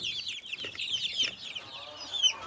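Dense high-pitched peeping from many İspenç chicks, continuous and fairly close, with soft shuffling underneath as they are moved from a cage into a coop.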